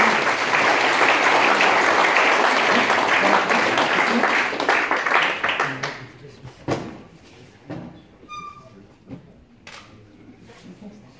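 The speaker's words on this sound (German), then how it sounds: "Einen großen Applaus an Jolanta Wapichowski." Audience applause at a short film festival, a dense sustained round of clapping from a hall that fades out after about six seconds, leaving a few scattered claps and faint room noises.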